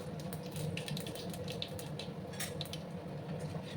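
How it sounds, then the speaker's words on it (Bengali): Black cumin seeds dropped into hot oil for fried taro chips, giving a steady close sizzling hiss with scattered crackling pops, no talking. "এবার ওই তেলের মধ্যে আমি হাফ চামচের মতো কালো জিরে দিয়ে দিলাম"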